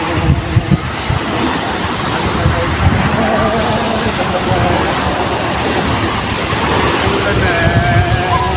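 Sea waves wash against a beach while strong, cold wind buffets the microphone, a steady broadband rush with surging low rumbles; faint voices may sit beneath the noise.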